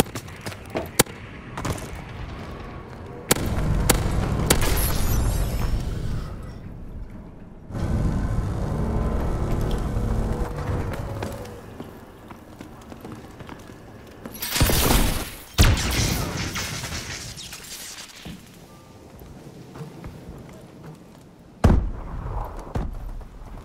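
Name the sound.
enemy bombing run explosions in video game Call of Duty: Advanced Warfare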